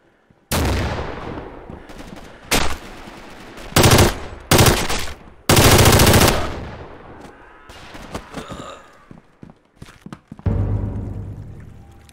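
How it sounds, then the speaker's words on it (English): Machine gun fire in a video game battle: long, loud bursts of automatic fire come in several sustained volleys, broken by short pauses and scattered single shots. "Feindlich ist MG gesichtet."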